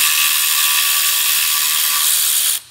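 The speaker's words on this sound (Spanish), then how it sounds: "Vamos a usar una matraca." A ratchet wrench loosens a mount bolt on a Ford Fiesta, a loud, fast continuous clicking whir held close for over two seconds before cutting off abruptly.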